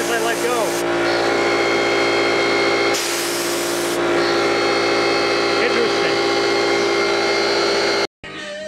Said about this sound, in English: You can actually hear it under load as soon as I let go.